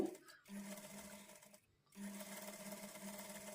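An electric sewing machine runs in short bursts, stitching double seams on a designer kurti, its steady whirring motor pausing briefly between runs.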